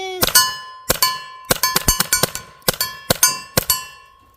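Airgun pellets striking a steel target outdoors, a series of sharp ringing clangs, about a dozen hits in irregular pairs and singles, each with a bright metallic ring that decays quickly, loud and close.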